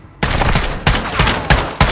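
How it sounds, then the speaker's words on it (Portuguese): Gunfire in Call of Duty DMZ on Ashika Island rings out in several sharp, loud bursts roughly every half second, one shot after another, with no talk. "Levando o tiro!"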